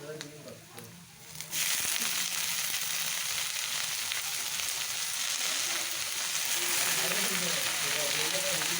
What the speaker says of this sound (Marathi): आपला कांदा बघा मस्त असं भाजत आलेला आहे लालसर त्यात भाजी भाजी ॲड करायची